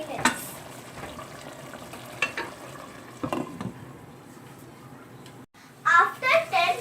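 A pot of Persian mutton dum biryani is stirred and cooked, with sizzling and intermittent spoon scrapes up close, and a voice breaking in toward the end.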